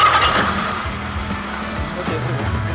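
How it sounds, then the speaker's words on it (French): A motorcycle engine idles while warming up, a low steady running rumble with slight throttle changes, close by and continuous in a 1981 street setting. "Tu mets ton moteur en route, on va faire chauffer un petit peu."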